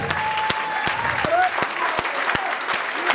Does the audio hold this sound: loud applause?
yes